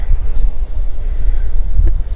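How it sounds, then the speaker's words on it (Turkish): Gusty wind buffets the microphone outdoors in a village field in Adıyaman, a loud low rumbling roar that rises and falls throughout. "Havada rüzgarlı."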